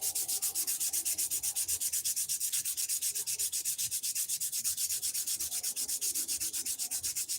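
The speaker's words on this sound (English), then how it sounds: "once you start sanding, you gotta sand some more" Hand sanding a carved wooden glide bait for fishing: brisk, regular back-and-forth strokes of abrasive on wood, rhythmic and close, continuing steadily with no talk.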